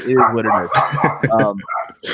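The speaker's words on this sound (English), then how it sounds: "someone's dog went off" A dog barks several times at close range, quick yappy barks with a whine, against a voice heard in the background.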